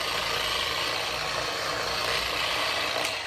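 An electric buffer polisher with a compound-loaded pad runs at low speed on a wood finish, a steady dense whirring hum with a faint rattle, close and constant.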